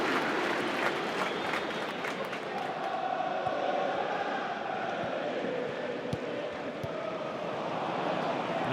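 A football stadium crowd cheers and roars during a Sunderland versus Liverpool match at the Stadium of Light, a dense loud wash of voices that swells and holds steady throughout without a clear commentator.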